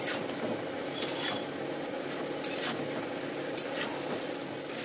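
Spice paste sautéing with vegetable stalks in a pan, a steady close sizzle with occasional light scrapes and taps of a spoon, no voices.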